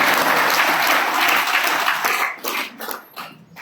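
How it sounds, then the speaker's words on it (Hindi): Loud applause from an audience at a speech event, dense clapping that fills the first two seconds and then breaks up into a few scattered claps as it dies away. "सबको एक बार जोरदार तालियां सबके लिए हो गया।"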